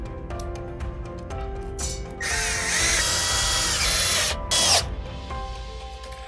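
Power drill driving a lag screw with a washer into a flat handrail connection, whirring steadily for about two seconds, pausing, then giving a short final burst, close up, with light handling clicks around it.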